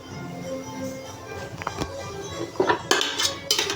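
Semolina halua being stirred in a pan without food colouring, a utensil scraping and clinking against the metal in uneven strokes that grow louder and sharper toward the end, close and with no talk.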